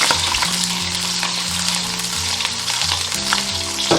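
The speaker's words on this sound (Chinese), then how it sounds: "油热过后下入金枪鱼，中小火慢煎。" Golden pomfret pan-frying in hot oil over medium-low heat, a steady close sizzle and crackle running throughout with no voices.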